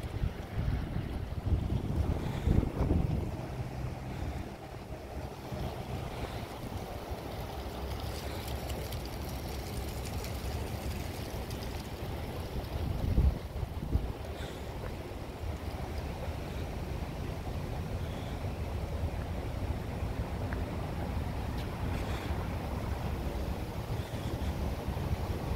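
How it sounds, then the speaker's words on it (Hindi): Strong wind blows by the water near Burlington, Massachusetts, buffeting the microphone in a steady roar over a low wash of waves, with a few louder gusts and no voices. "आज बहुत तेज हवा"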